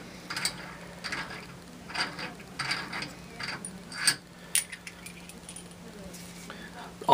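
A film unit's end cap being unscrewed by hand, giving repeated light metallic clicks and rattling scrapes in short bursts, close and fairly quiet against a steady background hum.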